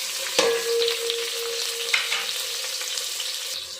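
Mustard seeds, onion, chili and curry leaves sizzle and fry in a hot pan as they are stirred, a steady crackling hiss with a few sharp clinks of the spoon against the pan.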